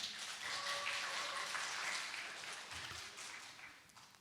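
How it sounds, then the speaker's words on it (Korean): A church congregation applauds during a Sunday service Bible quiz for children, a dense wash of clapping that fills the clip and tapers off near the end. "우리 박수 한번 합니다."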